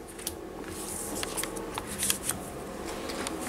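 Playing cards are revealed during a Game of Thrones style board game battle, giving a few faint, scattered card flicks and slides over a quiet room.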